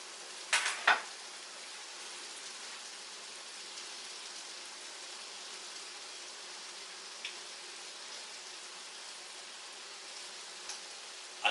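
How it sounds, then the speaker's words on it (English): Bacon fries in a pan with a steady, soft, broadband sizzle throughout. A few louder pops and crackles come near the start. "get the bacon in there. Alright, so we've got the bacon going."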